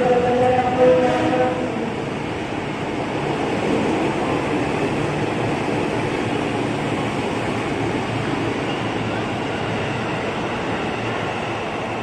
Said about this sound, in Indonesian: jalur 1 ada yang melintas langsung nih, KRL Express.